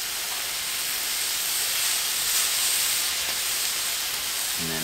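A deer heart sears in a hot pan, giving off a steady, loud, broadband hiss that holds without a break and sounds close, with no voices over it.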